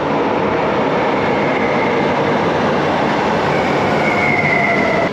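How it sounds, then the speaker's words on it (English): A train arriving at Málaga Zambrano station rumbles loudly and steadily close by, with a faint squeal of wheels rising near the end, no voices. "Here's a train coming in now."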